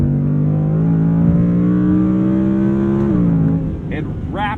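Audi R8 Performance RWD coupe engine revving through quick downshifts, loud and close with strong harmonic tones that climb and drop, then short sharp blips near the end.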